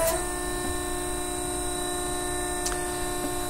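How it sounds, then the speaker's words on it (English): A steady hydraulic hum with faint tonal whine from a Transfluid 2076 K mandrel tube bender as its hydraulic cylinder pushes the follower pressure die forward, with a couple of brief clicks near the end. "You can watch now as this hydraulic cylinder is pushing that following pressure die forward"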